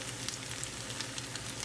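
Potato latkes sizzle in hot oil in a pan, a steady close crackling fry with small pops and no talking.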